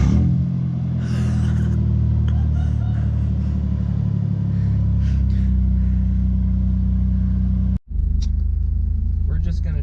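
A Toyota Tacoma with a 3.4 V6 and a Flowmaster 40 exhaust rumbles loudly at a steady deep idle close by, with a momentary cut partway through before the throaty drone resumes, while a voice talks over it.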